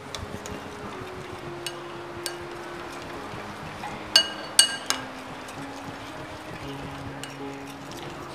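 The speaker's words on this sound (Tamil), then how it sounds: "ஸோ இப்போது ஒரு தடவை மிக்ஸ் பண்ணிவிட்டு திரும்பியும் அதை உள்ளே வச்சிடலாம்." A spoon clinks a few times against a glass bowl as a sweet milk mixture for microwave paalkova is stirred, with faint, sparse taps over a quiet kitchen background.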